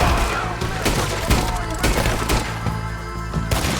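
Gunfire rings out in Red Dead Redemption 2, a rapid, uneven volley of sharp cracks and thuds over about four seconds, loud and close, with a voice murmuring faintly underneath.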